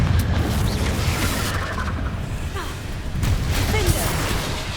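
A Confringo spell explosion in Hogwarts Legacy during a boss fight, heavy booming blasts with deep rumble over a constant dense backdrop of combat noise, loud and close, with game voices mixed in.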